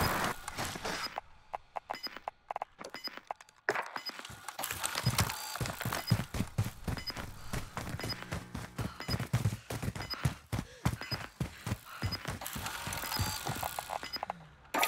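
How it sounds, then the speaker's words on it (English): Weapon magazines change in a Call of Duty Modern Warfare survival match, with rapid metallic clicks and clacks in quick bursts alongside scattered gunfire, moderately loud with no talk. "Changing mags."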